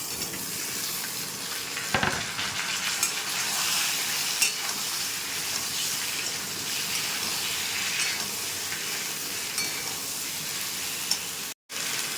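Chunks of mukhi kochu taro go into hot oil with panch phoron and fried onion, giving a continuous close sizzle with occasional stirring scrapes and a brief break near the end.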